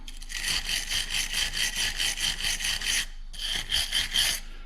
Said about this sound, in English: I'm going to take a wire brush.